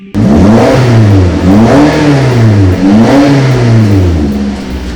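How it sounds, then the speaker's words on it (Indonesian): A car engine revs up and down in repeated swells just before being switched off, loud and close with no talking. "Jadi orang suka matiin mobil, sebelum dia matiin mobil tuh dia suka neken-neken gas gitu."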